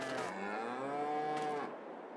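Cows in the Farming Simulator 22 video game give one long, drawn-out moo, moderately loud and alone, fading out at the end.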